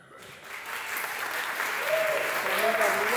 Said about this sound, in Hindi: So ladies and gentlemen, make some noise for Satyavrat.